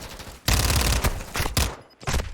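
Fennec submachine gun fire in a competitive Call of Duty esports match, bursts of rapid automatic shots broken by short pauses, loud and close, ending as the magazine runs dry.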